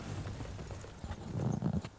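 A horse gallops in the Attack on Titan video game, with rapid clip-clop hoofbeats that build and grow louder toward the end of a short burst, fairly faint overall.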